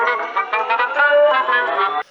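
A song plays, a dense, loud stretch of heavy rock with sustained tonal layers and a steady pulse running continuously before cutting off abruptly near the end.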